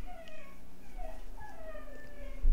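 A dog whimpers and whines indoors in a series of high, wavering cries, fairly close and alone, ending with a soft thump.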